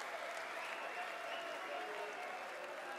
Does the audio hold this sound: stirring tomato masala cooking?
no